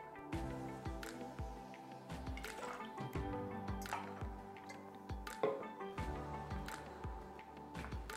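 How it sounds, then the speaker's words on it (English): Clarified passion fruit puree is poured for a cocktail, giving a quiet liquid trickle with soft drips and small splashes over a faint steady background. "And then we're gonna add our clarified passion fruit puree."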